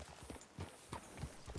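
A horse's hooves clip-clop in the Red Dead-based roleplay game RedM: a handful of soft, evenly spaced hoof strikes at a walking pace, faint and somewhat distant.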